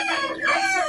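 A rooster crows once, loud and close, a drawn-out harsh call filling the short moment.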